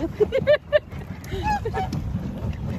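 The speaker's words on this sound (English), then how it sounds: "Watch out, goose. It's a goose, right?" Several honks from a goose near the water by a boat, a quick burst of loud nasal calls followed by softer honks and faint background voices.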